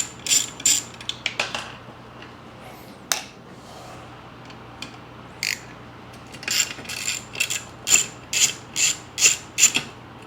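Metal parts of a Stihl 025 chainsaw clicking and ratcheting as the muffler is taken off, with irregular close-up tool clicks and scrapes that settle into a steady repeating run of ratchet strokes near the end.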